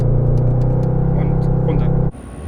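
A Mercedes-AMG GT63S holds a loud, steady engine drone at a race start, then the sound cuts sharply about two seconds in, leaving a quieter rumble with a thin high whine; a voice talks over the engine.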